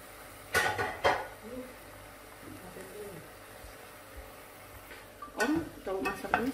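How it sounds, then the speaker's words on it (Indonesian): Egg rendang being stirred in a Saladmaster pan, with a spoon scraping and clinking against the pot in short bursts near the start and end and a faint sizzle between them. "Terus diaduk-aduk aja ya."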